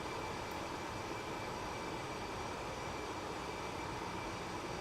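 Steady, even roar of MD-11 airliner engines in Microsoft Flight Simulator 2024, a constant broadband hum with no change in pitch or level, moderately quiet and uninterrupted.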